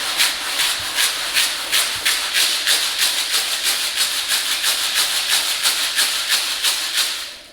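Liquid KBS sealer coating sloshes inside a closed metal gas tank as it is jiggled. Rapid rhythmic hissing swishes repeat several times a second, loud and close, with no voice.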